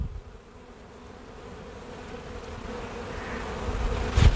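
Honey bees drone steadily around a struggling backyard hive set on pine straw near a food tray, a close, continuous buzz that swells slightly louder toward the end.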